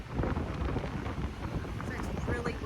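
Strong wind buffets the microphone outdoors in Skagway, Alaska, a constant low roaring rumble with gusty surges throughout.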